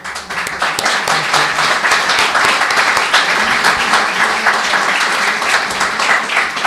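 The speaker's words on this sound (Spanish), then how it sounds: "darle un fuerte aplauso" An audience at a cinema and astronomy talk gives loud, sustained applause, a dense wash of many hands clapping that holds evenly for several seconds.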